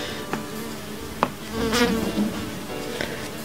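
Fly buzzing close by indoors, a faint wavering drone that swells for about a second amid a few light clicks and taps, with no voices.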